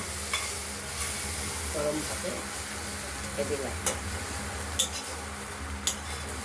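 Thin-cut bitter gourd and red sweet potato stir-frying in oil in a kadai with prawn paste juice: a constant sizzling hiss broken by occasional spatula clicks, with a faint voice briefly underneath.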